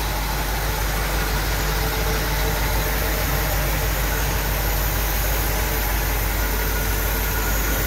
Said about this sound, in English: underneath the hood, as I mentioned, it's very smooth running 327